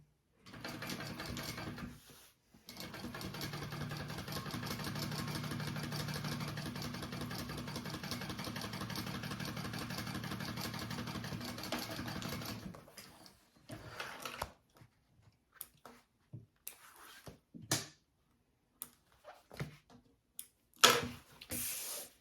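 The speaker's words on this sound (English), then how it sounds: "I'm going to go ahead and top stitch the top, and then we'll add it on to our lining." A sewing machine top stitches the slip pocket of a handbag, running in a steady, close mechanical hum for about ten seconds, then giving way to scattered handling clicks and rustles.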